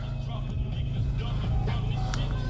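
A Stage 2 APR-tuned Audi A3 engine idles in snow, a steady low rumble heard from inside the car, with faint talk over it.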